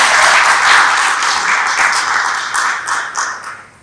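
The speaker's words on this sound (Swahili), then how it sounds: "Wapigeni makofi mengi sana Airtel." An audience applauds at a launch event for Airtel's spam alert campaign, a burst of clapping that thins out and fades toward the end.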